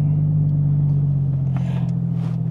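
A Porsche Cayman S 3.4 with a straight-through direct exhaust holds high revs while braked for a launch, around 6,800 RPM. It makes a loud, close, steady rasping drone, with a slight waver near the end and no talking.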